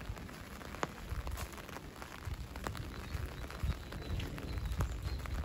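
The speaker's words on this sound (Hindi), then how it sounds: "बारिश हो रही है, घर चलते हैं।" Rain pattering steadily on hard surfaces nearby, dense and continuous with scattered sharper drops; no talking.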